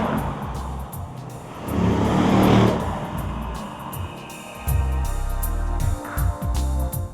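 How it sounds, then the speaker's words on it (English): A Mercedes-Benz E500 convertible's big 5.5-litre V8 growls and surges as the car accelerates hard, rising in pitch, easing off, then revving up again with deep, throaty pulses close by. "This car's got a lot of gruffness about it when you put your foot down."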